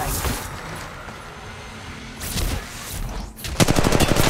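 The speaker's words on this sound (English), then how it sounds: "Shooting! Reloading." Automatic weapon fire in the mobile battle royale game Apex Legends Mobile during a ranked match, with sustained bursts that end in a loud, rapid, rhythmic volley near the close.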